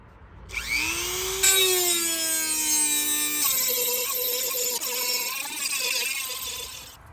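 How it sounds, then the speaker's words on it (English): Power tool cleaning etching primer off a metal repair patch on the front fender of a '56 Studebaker Hawk, a steady high whine spinning up then grinding along the steel, fairly close and continuous. "So I'm just going along the piece that's going to be welded and cleaning the primer off of it."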